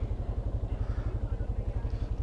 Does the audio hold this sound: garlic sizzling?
no